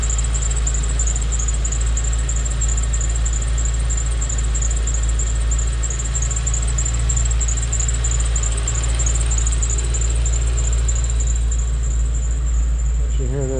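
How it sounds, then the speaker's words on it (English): A 2005 Ford Thunderbird convertible engine idles steadily, a constant low hum with a high-pitched whine above it and no knocking. "But you listen to the engine, again, there's no knocks, no dinging or chattering."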